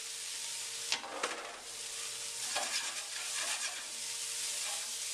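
Home-ground beef browns in a hot pan, a dense, steady sizzling hiss heard up close with a few sharp clatters and scrapes of stirring early on.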